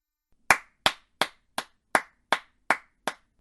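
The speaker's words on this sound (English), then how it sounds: "Then was when he heard it, a slow, deliberate clap." Eight slow, deliberate hand claps, evenly spaced and sharp, ring out alone against silence.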